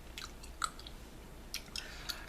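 Watermelon-flavored Bubblicious bubblegum chewed close to the mic, with several soft, moist smacks and clicks spaced irregularly over a quiet background.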